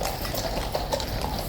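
Grey horse of the King's Guard clip-clopping at Horse Guards, steady hoof strikes on hard ground, close and clear against outdoor crowd noise.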